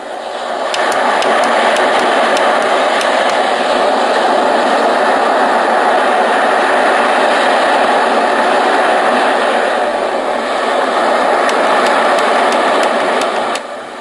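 Ocean wave setting on a Homedics Sound Spa Rejuvenate white noise machine, a steady broadband hiss that stays loud and even for the whole stretch, with no talk and no clear rise and fall of surf.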